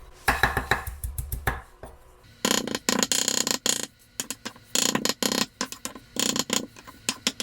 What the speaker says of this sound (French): Bon, on va hacher un petit peu de persil.